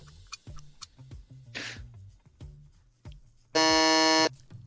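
A harsh electronic game-show buzzer blares once for close to a second, loud and sharp, against scattered light clicks and taps during a community game stream.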